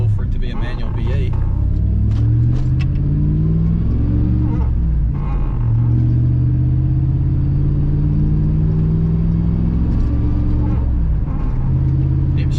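Manual V8 single-cab pickup truck driving and shifting, a steady low engine drone rising and falling through gear changes across the whole span, with people talking over it.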